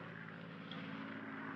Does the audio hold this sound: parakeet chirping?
no